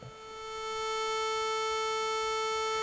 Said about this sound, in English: a sawtooth wave, which has got a point to it instead of just being a smooth sine wave